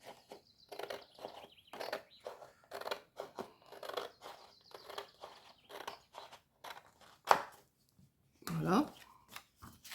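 Scissors cut a strip of paper for a mini album, a series of close, rhythmic snips with short pauses, followed by a louder rustle of handled paper as a voice briefly speaks.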